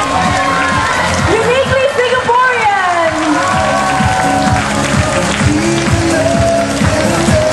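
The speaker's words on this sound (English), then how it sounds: "And a big round of applause for our last certificate of participation." Audience applause at the Sing!Singapore 2010 singing competition, a sustained dense clatter of clapping filling the hall from start to finish, with crowd noise and voices mixed in.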